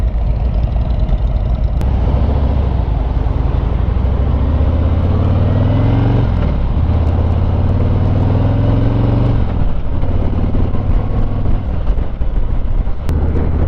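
Harley Davidson Ultra Limited motorcycle on a test ride, a loud steady engine rumble heavily buffeted by wind noise, with shifting engine pitch partway through as the bike changes speed, no talking.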